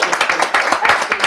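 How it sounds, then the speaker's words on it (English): Panelists at an NAACP know-your-rights event get a brief, close burst of clapping, quick uneven hand claps lasting about a second. "Let's give our panelists another round of applause"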